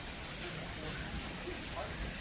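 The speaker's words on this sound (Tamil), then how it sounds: "மழை பெய்யுது பாருங்க" Rain falls outdoors at a hilltop lodge, a soft steady hiss of drops spread evenly across the short stretch, fairly faint and without clear voices.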